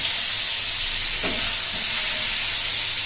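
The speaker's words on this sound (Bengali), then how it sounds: "চিকেনগুলো ভেজে নিচ্ছি হালকা করে" Chicken pieces frying lightly in a pan in a home kitchen give a steady, even sizzle and hiss throughout, with a brief soft stir or scrape near the middle and no talking.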